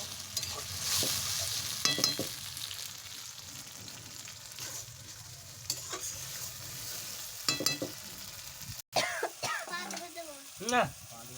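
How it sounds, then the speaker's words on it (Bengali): Chicken stirred in a pan with ginger, garlic, coriander and cumin powder and dried chili paste, sizzling with repeated scraping strokes, a short cough or throat clearing partway, then a gap and more stirring. "ভালো করে নাড়াচাড়া করে নেব।"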